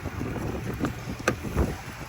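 Strong wind buffets outdoors beside a GMC Denali Ultimate one-ton dually pickup truck, a rough, steady rumble of gusts hitting the microphone for about two seconds, with a few brief knocks and no voice.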